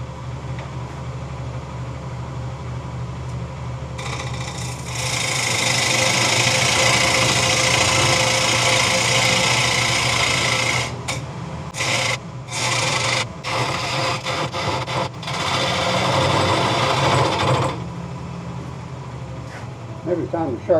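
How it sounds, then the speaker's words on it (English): A parting tool is pushed straight into a wet, spalted alder bowl on a woodturning lathe. A steady motor hum runs throughout under a loud, close, sustained hissing scrape lasting about twelve seconds, broken by several short gaps before it stops. "I push straight in with a parting tool to establish the thickness of the wall"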